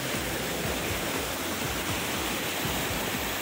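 Mountain river rushing below a trail on the Kedarnath route, a steady loud broadband roar of turbulent water that fills the whole stretch without pause, close and continuous.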